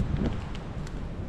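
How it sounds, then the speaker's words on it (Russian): Steady low rumbling wind buffeting the microphone in a snowy outdoor setting, a continuous broadband roar with no voices. "Ветер дует, снег лежит."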